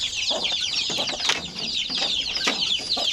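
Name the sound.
shamo chickens clucking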